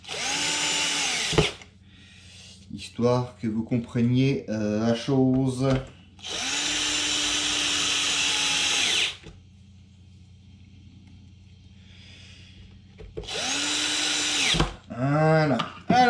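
An MCD X4 Rally brushless 16S 1/5 scale 4x4 RC car motor spins up in several loud, close bursts of high electric whine that rise and cut off abruptly. Someone speaks French between the bursts.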